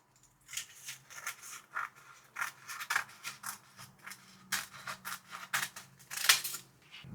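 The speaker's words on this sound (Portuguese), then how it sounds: "E passar a tesoura." Scissors slicing through a sheet of nori seaweed while making onigirazu: a run of crisp, close snips and rustles at an uneven rhythm, with no talking.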